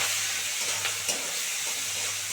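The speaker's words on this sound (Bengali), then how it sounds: "বন্ধুরা এবার চিংড়ি মাছটা দিয়ে দিচ্ছি, দিয়ে ভালো করে ভেজে নিচ্ছি" Prawns coated with salt and turmeric frying in white oil, a close steady sizzle and hiss with a couple of brief spattering bursts, no voices.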